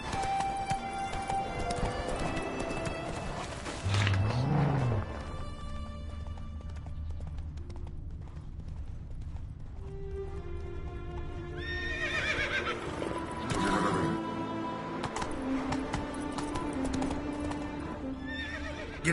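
A video game horse trots with steady clip-clop hoofbeats for nearly twenty seconds, whinnying loudly twice along the way, with no one speaking over it.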